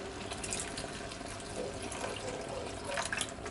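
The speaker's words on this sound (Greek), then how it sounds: "Τώρα για να βράσει λίγο και το ψάρι μας θα συμπληρώσουμε με λίγο νερό." Water pours steadily into a pot of barley risotto with scorpionfish, a continuous close splashing and trickling for a few seconds with no talk.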